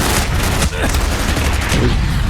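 Bursts of gunfire in Call of Duty Black Ops crackle loud and close, a rapid fusillade of overlapping shots with a voice briefly mixed in.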